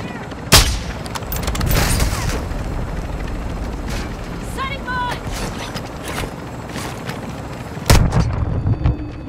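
A military video game firefight brings sharp gunshots, some close and loud, others scattered through a steady rumble, with a heavy crack near the start and a dense burst near the end, while voices talk over it.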